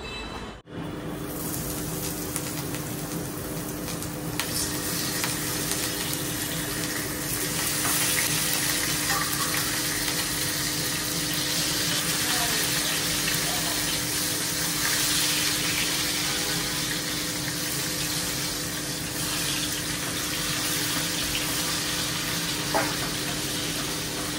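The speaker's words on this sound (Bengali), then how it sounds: "চলো মাছটা ভাজি বসায় দিই" Fish frying in a pan gives off a steady, broad sizzle that stays at an even level the whole time, with a brief clatter near the start and no talking.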